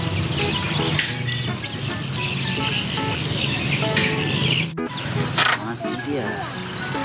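Chickens, ducks and other fowl at a poultry market cluck and call in a steady, dense chorus, with chirps and a few sharper cries rising over busy background noise and people talking nearby.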